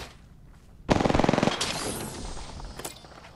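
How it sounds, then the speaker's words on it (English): A Havoc energy rifle in Apex Legends fires a single rapid burst of about a dozen shots, then a short ringing tail and a couple of faint clicks follow. "I just shot my Havoc."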